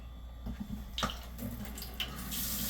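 Warm tap water running into a container to measure water for rice, a soft splashing flow with small clinks, close and quiet, without talk.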